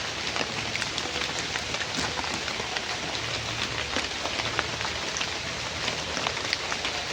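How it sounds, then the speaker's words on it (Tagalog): A loud, steady downpour of heavy rain hisses and patters close by, with scattered sharper drops striking surfaces through a constant roar and no voices. "Grabe, napakalakas ng ulan mga lods."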